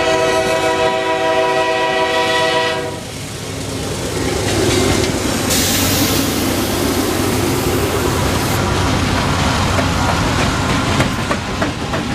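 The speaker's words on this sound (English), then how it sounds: "Q44214, a daily freight out of Tampa to Waycross, Georgia." Freight train Q442 running daily from Tampa to Waycross, Georgia, with auto racks on the rear, rolling past up close: a horn blast opens, then loud steady wheel and railcar rumble with clattering and squealing continues throughout.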